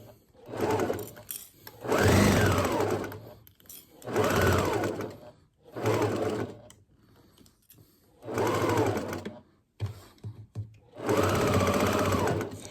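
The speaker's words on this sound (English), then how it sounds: "I like to backstitch over this point where the elastic is." Sewing machine stitching elastic onto a fabric face mask, running in five bursts of roughly one to two seconds each, separated by short pauses, loud and close.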